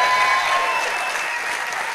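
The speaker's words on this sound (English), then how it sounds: "a round of applause for these 2 guests, please" A live audience at The Strand Arts Centre gives a round of applause, dense, loud, steady clapping filling the whole short stretch.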